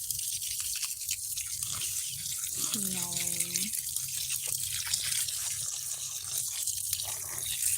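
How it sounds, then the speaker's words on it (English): Water splashes and patters steadily onto pepper plants and soil in a continuous outdoor garden spray, with a brief tonal whine in the middle. "we're just watering our garden this morning"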